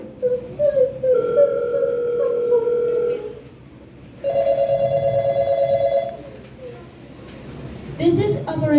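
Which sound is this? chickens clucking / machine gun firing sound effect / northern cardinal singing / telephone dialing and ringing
telephone dialing and ringing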